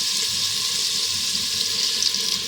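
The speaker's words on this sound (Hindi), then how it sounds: "मसाला जैसे ही बनता है हम पानी डाल के ना राजमे को गलने के लिए रख देंगे।" Water poured from a tap into a pan for cooking red beans in a Punjabi kitchen, a loud steady rushing stream that runs without pause.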